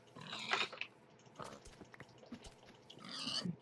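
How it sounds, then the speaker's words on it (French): Pigs in a survival video game make several short, close grunts and snorts, spread across a few seconds with no talking. "On tue des cochons."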